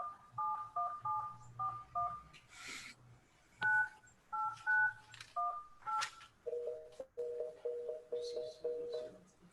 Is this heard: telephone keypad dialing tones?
yes